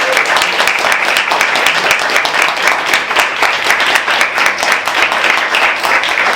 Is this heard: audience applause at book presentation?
yes